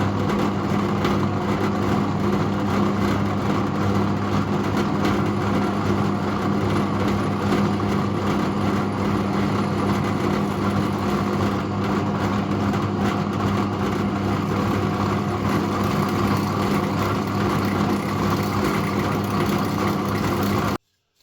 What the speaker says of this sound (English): Let's go back to a carbide drill bit now and see if we can get this out.